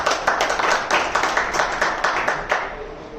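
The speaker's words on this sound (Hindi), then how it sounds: "तो आप अपने खुद के लिए तालियां बजाओ।" An audience claps together in a steady, rhythmic burst of rapid hand claps lasting a few seconds, fairly close and even, with no talking over it.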